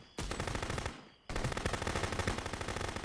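Rapid bursts of gunfire and a thrown bomb exploding in the video game Contraband Police, loud and dense, with a brief lull before the firing resumes.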